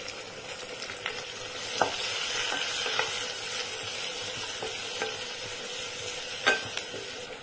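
Finely chopped onions frying in butter with fennel seeds in a pan while cooking mutton biryani, a steady close sizzle throughout with occasional sharp clicks of a spoon stirring against the pan.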